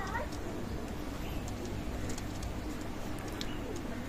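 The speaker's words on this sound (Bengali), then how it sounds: "এটা হচ্ছে নর কবুতর" A male Kamagar pigeon coos softly, low repeated throaty calls under a constant noisy background, fairly faint and steady throughout.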